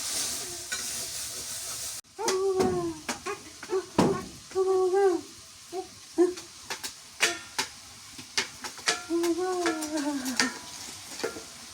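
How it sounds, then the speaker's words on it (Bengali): Potatoes and tengra fish stir-fried in a pan, a loud hiss cutting off suddenly, then repeated sharp scrapes and clatters of a spatula against the pan over a quieter sizzle, with faint voices in the background. "আলু আর মাছটা ভালো করে কষাই।"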